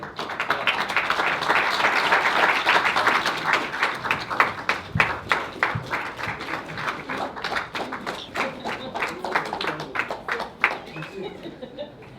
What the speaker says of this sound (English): Can we give a last round of applause?